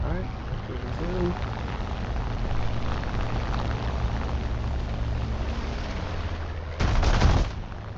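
P-63 aircraft guns in a video game keep up a steady, rumbling rattle under a person talking, with a sharper, louder burst near the end.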